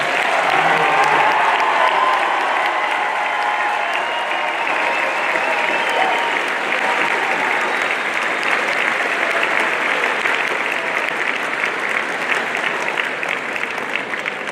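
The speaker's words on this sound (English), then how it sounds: "Let's give the class of 2021 one more round of applause." Sustained, loud applause from a graduation ceremony audience for the class of 2021, a dense wash of clapping that holds steady for the whole stretch with no break.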